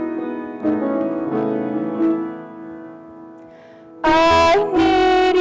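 Music from a love song: sustained melodic tones with gentle note changes, then a louder, fuller passage near the end.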